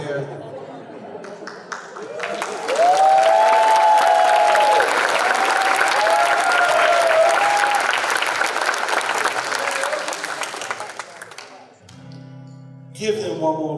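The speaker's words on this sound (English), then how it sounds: "Give them one more round of applause." Sustained audience applause follows a hula performance by women dancers in dresses with flowers in their hair, a dense clapping wash with crowd chatter and a voice rising over it, fading near the end before a brief swell.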